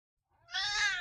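A pet cat gives a single clear, drawn-out meow close to the microphone after a moment of silence.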